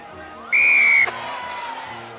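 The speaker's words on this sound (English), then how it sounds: "Penalty advantage leads to the blow of the whistle" A referee's whistle sounds at a Women's Six Nations rugby match between Italy and France: one loud, sustained blast lasting about half a second, heard over steady stadium crowd noise.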